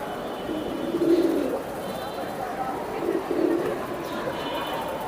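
Giribaz pigeons coo in two soft, low bursts about two seconds apart, set against a steady background murmur of people talking.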